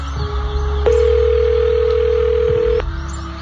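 A telephone call is placed, and one long, steady ringback tone sounds clearly for about two seconds, with a faint hum underneath.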